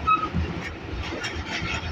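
A U30 diesel locomotive hauls a train at speed toward Khanewal, making a loud, steady rumble and rushing roar with no voices.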